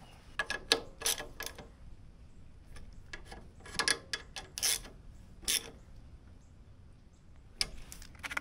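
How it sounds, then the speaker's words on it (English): Screws being driven into a John Deere lawn mower make faint, rapid ticking and ratcheting clicks in irregular clusters with brief pauses, close by and without talk. "Get these screws in."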